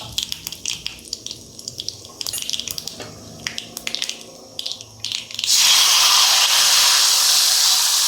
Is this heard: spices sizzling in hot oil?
yes